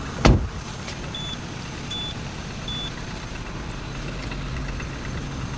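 Peugeot 207 CC folding hard roof motor runs with a steady electric whir, opening on a single sharp thump and marked by three short, evenly spaced electronic beeps. No one speaks.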